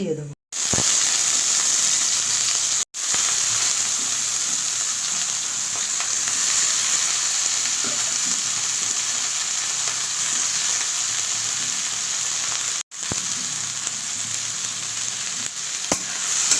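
Potato and eggplant fry in hot oil with cumin seeds and a whole dried red chilli, a loud, continuous close sizzle with brief dropouts and faint stirring underneath.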